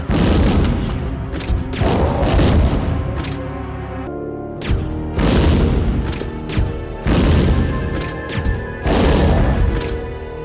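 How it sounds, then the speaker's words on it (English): Grenade launcher rounds detonating on a Bandersnatch in the Resident Evil Survivor 2 Code: Veronica game: a run of heavy, booming blasts, several close together, each with a rumbling decay, loud and continuous with no talk. "let's go ahead and test a grenade launcher on a Bandersnatch"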